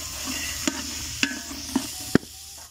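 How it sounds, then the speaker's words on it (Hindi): About one and a half kilos of green peas are stirred and fried in a big pot for matar pulao outdoors, with a steady sizzle and a few sharp clanks of the spoon against the metal. "तो अलहमदिल्ला मटर भुन रहे हैं"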